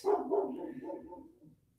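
A single dog bark, close and moderately loud, trailing off into a short fading whine with no talking.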